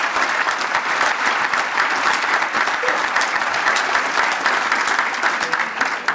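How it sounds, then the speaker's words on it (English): The crowd at a police awards luncheon in a banquet hall applauds with sustained, even clapping throughout. "how about a round of applause for that?"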